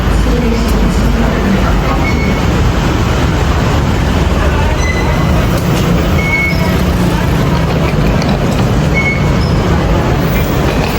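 An Airport Rail Link train at Phaya Thai station in Bangkok gives a loud, steady rumble of rolling stock with faint high wheel tones, and voices can be heard talking under the noise.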